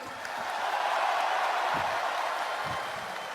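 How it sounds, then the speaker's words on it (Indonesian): Many hands clap at a political rally for Prabowo, a broad, continuous patter that rises quickly, stays level and eases slightly near the end, with a few murmuring voices underneath. "Tepuk tangannya kurang semangat."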